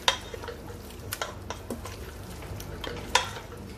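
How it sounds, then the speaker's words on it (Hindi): Mutton for a white korma sautéed in a pan, with intermittent scraping stirs and clinks of a utensil over a faint, steady sizzle, close and fairly quiet with no voices. "अच्छे से आपने भून लेना है 10 मिनट तक"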